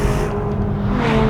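A powerful twin-turbocharged 3.8-litre V8 car engine drones loudly and steadily, close by, with no voices.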